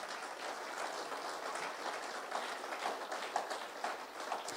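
A church congregation applauding, a steady, dense wash of many hands clapping together that holds without a break, heard from within the room at moderate loudness.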